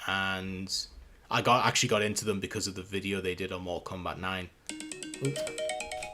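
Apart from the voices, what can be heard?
mobile phone ringtone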